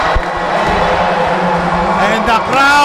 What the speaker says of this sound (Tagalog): Hear the Pampanga crowd here.